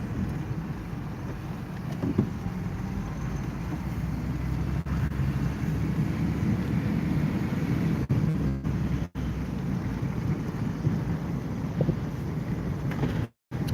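Steady wind buffeting the microphone, a continuous low rumble with brief dropouts, no voices.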